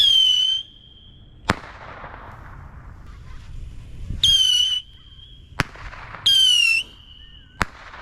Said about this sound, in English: now we're just gonna do more fireworks randomly